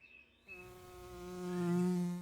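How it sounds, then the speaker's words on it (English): Bumblebees buzz around common lungwort blossoms on a cool morning, a steady droning hum that grows louder and nearer toward the end, with no other sounds. "The bumblebees are so warm, they even raise the temperature of the blossoms they visit"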